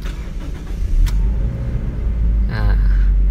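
A 2015 Toyota Kijang Innova 2.0 G Luxury petrol engine cranks briefly and catches, then settles into a loud, close, steady low idle rumble with a faint whine rising near the end.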